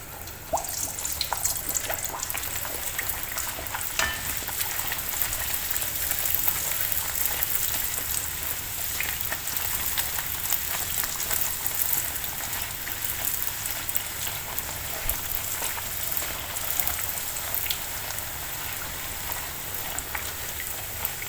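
Pathir peni dough, a thin layered Tamil flaky pastry, frying in hot oil, giving a steady close crackling sizzle that holds without a break.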